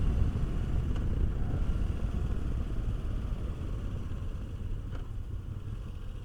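Moto Guzzi V85TT adventure motorcycle engine under way, a steady low rumble with road and wind noise that holds fairly constant and close throughout, with no talking.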